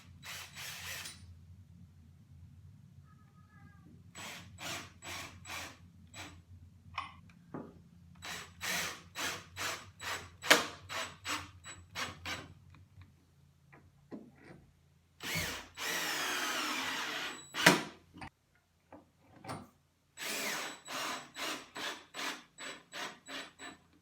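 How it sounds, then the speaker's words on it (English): A power drill drives 1¼-inch hardwood screws into an oak table top in repeated short whirring bursts, with a few longer runs and quiet gaps between screws, fairly close and moderately loud. "So let's get that screwed down."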